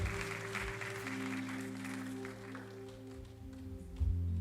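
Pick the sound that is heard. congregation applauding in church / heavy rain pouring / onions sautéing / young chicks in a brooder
congregation applauding in church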